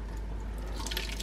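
Tomato soup is poured into a pot, a short continuous liquid splash and trickle that swells toward the end, heard alone.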